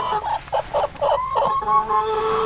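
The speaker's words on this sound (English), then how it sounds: "Lots of chickens. Hi, chickens." Chickens at a backyard coop during egg collection cluck repeatedly in short, close bursts, several birds overlapping at a steady moderate loudness.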